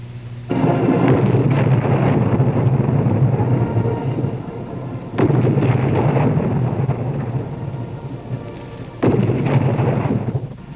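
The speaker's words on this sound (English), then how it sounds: "A 19-gun salute for the Vice President at the Citadel in Charleston, South Carolina." Field guns fire a 19-gun salute for the Vice President at the Citadel in Charleston, South Carolina: three heavy booms spaced about four seconds apart, each rolling off in a long echoing decay.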